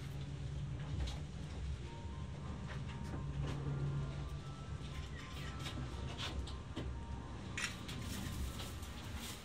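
A Mt. Moiwa ropeway gondola in Sapporo descends toward the base station, giving a continuous low rumble with faint rattles and creaks as it passes a pylon, a recorded announcement playing over the steady cabin noise.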